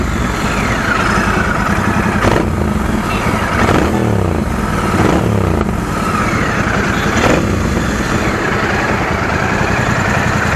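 A Royal Enfield Bear 650 scrambler motorcycle engine rumbles steadily nearby, with a few throttle blips rising and falling in pitch over a constant idle.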